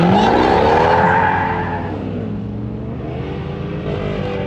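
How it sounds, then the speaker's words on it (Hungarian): Chevrolet Corvette C6 with a 6.0 V8 accelerating hard from a standstill at a drag race, engine loud and close, revs sweeping up and falling through gear changes with some tire squeal. "De szépen szól a V8!"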